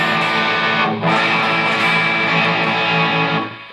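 A distorted electric guitar strums a full chord that includes the third, sustained and loud with a thick, slightly muddy tone, briefly restruck near the start and ringing out before fading.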